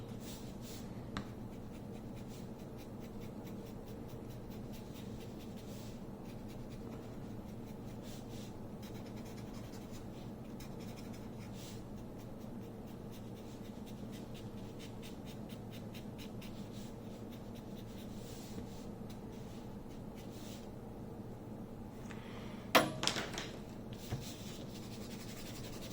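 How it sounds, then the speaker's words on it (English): Pencil scratching short hatch marks onto paper in a steady, faint, rapid rhythm for a long stretch, close up, with a brief louder tap near the end. "Now I'm going to use short hatch marks."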